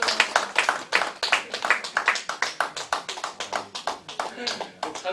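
Rhythmic clapping from a church audience welcoming a pastor on stage, a steady run of sharp claps at a moderate level with some talk mixed in beneath.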